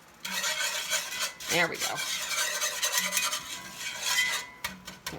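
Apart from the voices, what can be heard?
whisking brown sugar into the mixture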